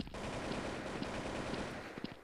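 AK rifle gunfire in a first-person shooter game, with a steady stream of rapid automatic shots that sounds somewhat distant and muffled, plus a few sharper cracks near the end.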